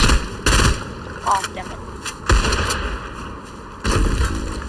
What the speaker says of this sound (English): I'm getting shot at over here